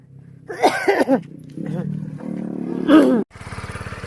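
A motorcycle that had trouble starting, with its fuel drained, revs unevenly, then settles into a rapid, steady putter nearby, with voices talking over it.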